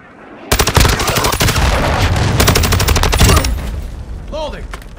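Loud, close automatic gunfire from Call of Duty: Modern Warfare II rattles in long continuous bursts after a brief quiet start, easing near the end as other game noises swirl in.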